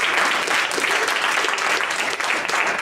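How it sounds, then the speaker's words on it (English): Steady applause fills a room after a poetry reading, dense, even and sustained from start to finish with no break. "So I want to give everybody a round of applause."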